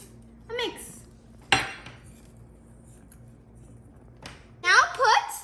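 A spoon mixes cake batter of baking powder, sprinkles and vanilla essence in a bowl, giving a couple of sharp clinks and scrapes against the bowl while children's voices chatter nearby.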